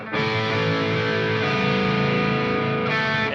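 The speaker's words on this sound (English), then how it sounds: "And there's so much distortion." Heavily distorted electric guitar rings out in a loud, sustained chord of about three seconds, buzzing and saturated, with no voices over it.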